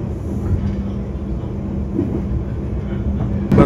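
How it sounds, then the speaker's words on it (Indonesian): The Argo Bromo Anggrek express train passes through Gambringan station, a loud continuous rumble with rhythmic wheel clatter, swelling to a sudden louder burst near the end. "Barusan kereta Argo Bromo Anggrek"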